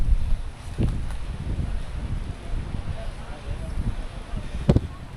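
Wind blows across the foggy summit of Mount Burangrang, a steady, rough rumble of gusts against the microphone, with a few brief knocks and no clear speech.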